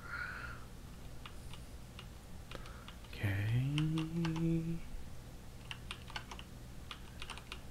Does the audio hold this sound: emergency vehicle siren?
no